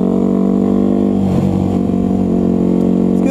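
A 2001 Yamaha WR250F supermoto engine revs hard and close, a loud, steady buzzing drone holding throughout with slight swells as it accelerates.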